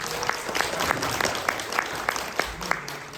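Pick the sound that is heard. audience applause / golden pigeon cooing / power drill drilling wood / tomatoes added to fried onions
audience applause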